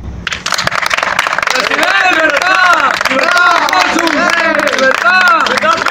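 Loud crowd applause and cheering for a president at a political assembly, dense clapping swelling after a brief start and sustained throughout, with voices shouting over it.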